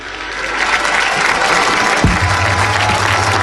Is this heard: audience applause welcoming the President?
yes